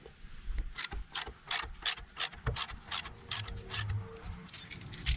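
A ratchet wrench clicks in quick repeated bursts while loosening the bottom brake caliper bolt during a rear pad replacement on a 2000-2006 GMC Yukon Denali, close and fairly quiet with a few pauses between strokes.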